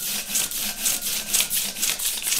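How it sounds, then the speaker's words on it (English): 100-grit sandpaper on a heavy granite-block jig is run back and forth over wood in a luthier's shop, giving about eight quick, even rasping strokes close by with no talking. "So I just got a 100 grit sandpaper on here."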